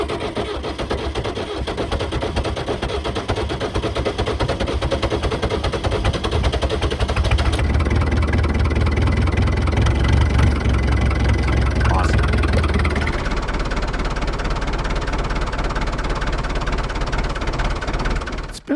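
A cold White 260 tractor made by Fiat, an old family machine that had been plugged in to warm in a southern Ontario winter, cranks and runs with a loud, steady, rough diesel clatter that continues throughout and shifts tone partway through.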